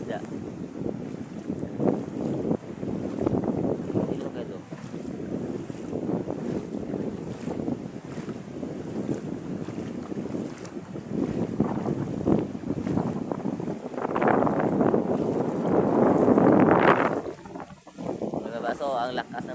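Strong wind buffets a small boat at sea in rough weather with high waves and rain, a steady roaring rush with louder gusts building toward the end; people talk intermittently under the noise.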